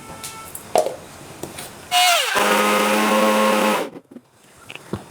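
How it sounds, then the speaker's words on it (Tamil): A mixer grinder grinding coconut mint chutney whirs loudly for about two seconds, starting abruptly and cutting off, with small clicks and handling noises before and after. "இப்போ நம்ம இதை அதில் போட்டு அரைச்சிட்டு வரலாம்."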